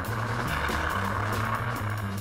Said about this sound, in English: These tiny built-in speakers can make your favorite action flicks sound like this.